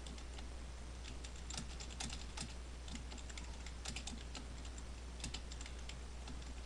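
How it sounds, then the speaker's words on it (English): Someone types a question on a computer keyboard, producing fast, irregular key clicks that sound close but fairly quiet over a steady low electrical hum, with no talking. "So go ahead and type in your question."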